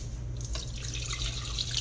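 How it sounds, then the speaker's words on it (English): Water poured into a bowl of bread dough ingredients, a steady splashing stream at close range with no voices. "And then the last thing we add is the water."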